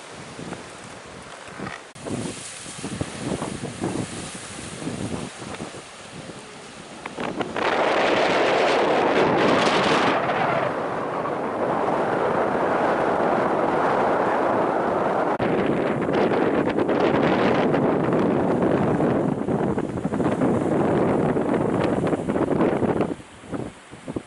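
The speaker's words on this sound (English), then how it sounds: "And it's right here on the ocean." Wind and ocean surf at a coastal ruin in the Faroe Islands: gusts buffet the microphone with a loud, continuous roar that swells midway and holds, while waves wash beneath it and no one speaks.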